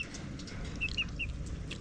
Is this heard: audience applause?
no